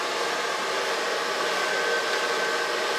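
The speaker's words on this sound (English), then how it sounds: "Now I'm going to blow dry it in the way it's been wear normally through the day." A hair dryer blows steadily and loudly up close while styling an undercut hairdo with colored sections, an unbroken airy roar with no talking.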